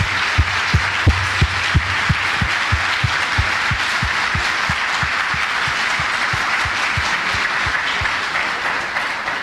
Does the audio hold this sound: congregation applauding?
yes